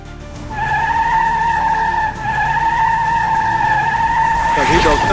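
A cartoon flying car spins round and round with a loud, sustained tire-skid squeal holding steady tones for several seconds, rising into a burst of clatter at the end, with no one talking.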